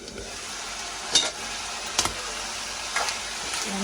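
Green chilies and curry leaves sauté in a pan for a seafood dish, giving a constant soft sizzle broken by three sharp spatula knocks against the pan, roughly a second apart.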